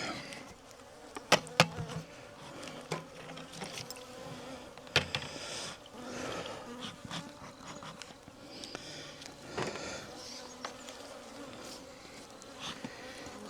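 Honey bees buzz densely around an open hive during an inspection, a steady insect drone with louder passes and occasional knocks and handling clicks, close and continuous with no talking.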